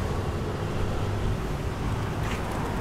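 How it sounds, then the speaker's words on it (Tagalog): Strong wind on Roxas Boulevard, Manila, buffets the microphone with a constant broadband roar and low rumble, steady throughout with no voices. "Sarap ng hangin, lakas."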